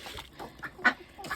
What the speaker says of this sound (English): These are all mostly older hens. Duck is the last duck I have